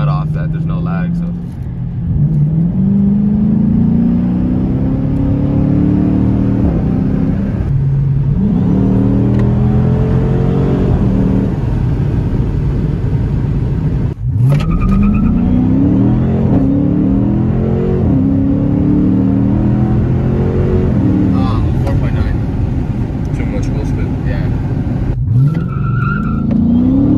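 A modified car's engine revs in repeated quick throttle blips, each rising and falling sharply, with a couple of louder bursts, heard up close under steady talking.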